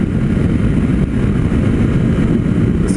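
Honda Sahara 300 motorcycle being ridden, a loud steady engine drone with constant wind rush close to the microphone.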